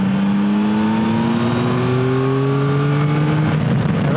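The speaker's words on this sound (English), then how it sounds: "The sound from the bike is absolutely splendid." Yamaha Tracer 9 GT motorcycle engine revving under acceleration, a loud, close, continuous roar with pitch climbing steadily through the gear, no talking.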